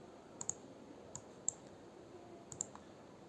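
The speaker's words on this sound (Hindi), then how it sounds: "दोबारा से हम यहाँ पर क्लिक करेंगे" A computer mouse clicks sharply while someone fills out an income tax return online. There are about eight separate, crisp clicks, some in quick pairs, over a quiet room background.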